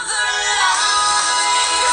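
Dance music from the Radio Number One Dance station plays through the small speaker of a Wiko Highway Star 4G phone, loud and continuous, thin and bright with almost no bass, and no voices over it.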